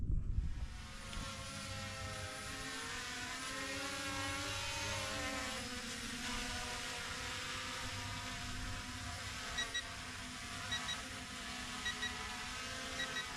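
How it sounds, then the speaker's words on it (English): A very cheap, battery-weak toy drone flies outdoors on a homestead, its steady high-pitched motor whine droning continuously for over ten seconds with gently wavering pitch as it moves about, no voices. "Brian is playing with the drone. A very cheap one."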